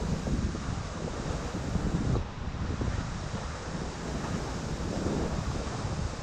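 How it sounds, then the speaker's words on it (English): A massive waterfall on the Milford hike gives a continuous, loud, rushing roar, steady throughout, with gusts of wind buffeting the microphone over it. "Get to see this massive waterfall."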